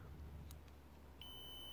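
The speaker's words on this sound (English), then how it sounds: "And there you go, it beeps on that." Multimeter set to continuity test on a car ECU connector pin, with the wiring traced to an injector: a faint, steady high beep starts partway through and holds to the end over a low background hum.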